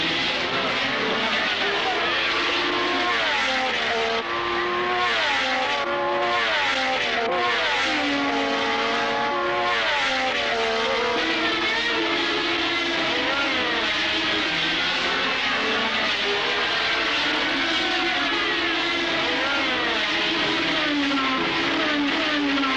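Race cars roar around a track, and their engines rise and fall continuously, pitch sweeping up and down as the cars chase each other past at close range.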